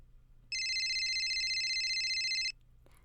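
A phone rings with one steady electronic tone lasting about two seconds, clear and close over a faint low hum, then falls silent.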